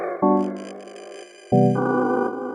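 Pladask Elektrisk Baklengs granular pedal with its clock speed turned all the way up, two sustained chord-like textures each entering abruptly and holding with a bright, sped-up granular shimmer, close and with no talking.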